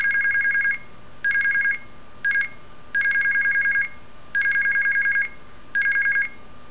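IMTS mobile telephone dial pulse signaling plays as bursts of bright electronic tones, six groups of repeated beeps of varying length separated by short gaps over a low background hum, with no voices.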